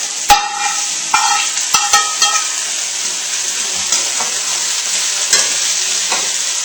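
Tofu frying in a hot wok with a steady, loud sizzle, broken by several sharp scrapes and knocks as it is stirred, with no talking.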